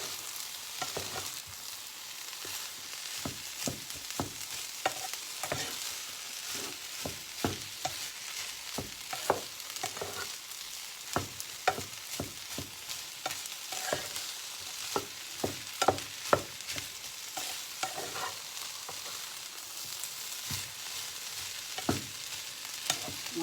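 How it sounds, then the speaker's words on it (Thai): Shrimp fried rice being stir-fried in a pan, with a steady sizzle and frequent sharp scraping clacks of a utensil against the pan in an irregular rhythm, close and clear, no talking. "แล้วก็ผัดให้สุกนะคะ"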